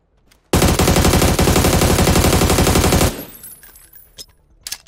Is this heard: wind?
no